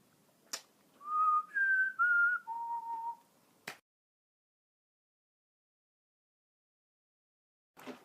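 Someone whistles a short four-note melody from The Hunger Games: Catching Fire, clear and steady, framed by a few sharp clicks, then silence until another click at the end.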